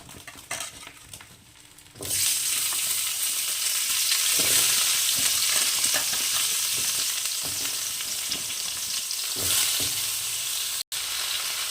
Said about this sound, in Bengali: এই তেলের মধ্যে আমি কেটে নেওয়া সবজিগুলো ভেজে নেব